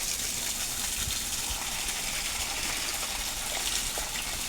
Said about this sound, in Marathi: पाणी मारायचं काम चाललंय सगळीकडे